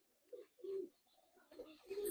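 A Malwai pigeon coos close by in a few soft, low, throaty bursts, with short quiet gaps between them and no talk over them.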